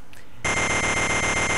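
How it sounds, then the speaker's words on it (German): An alarm clock rings in the video game Wario Land II, starting abruptly and then holding as a loud, continuous, rapidly pulsing electronic buzz that runs steadily to the end. "Der klingelt, der Wecker."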